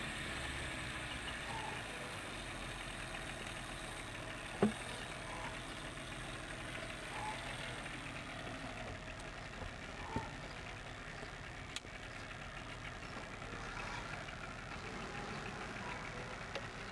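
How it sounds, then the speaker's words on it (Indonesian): A single engine idles steadily after being restarted, a continuous low mechanical hum running the whole time with a few brief knocks and clicks on top, no voices. "Sudah hidup lagi satu mesin."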